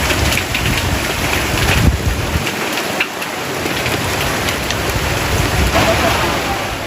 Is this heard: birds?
no